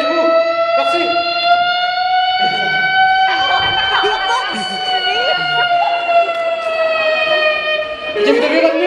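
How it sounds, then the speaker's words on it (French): A loud, steady siren wails for the whole stretch at a stage show, its tone holding nearly level with a slight rise and fall. Crowd noise and voices mix in underneath. "dès que tu vas entendre une sirène"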